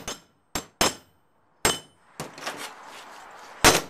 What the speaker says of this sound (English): We'll switch hammers from time to time. Leaves a different mark.